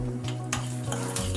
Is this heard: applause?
no